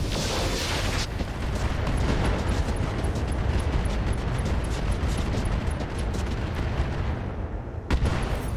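Heavy weapons fire from a Salamander mech in the RogueTech battle game: a loud, sustained barrage of booming, crackling blasts that rolls on for several seconds, ending in one sharp final hit.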